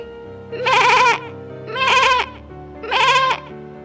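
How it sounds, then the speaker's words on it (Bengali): A cartoon goat bleats three times in a row, loud and close, each cry about half a second long with short pauses between. "চিৎকার করে ছাগল ছুটতে শুরু করে"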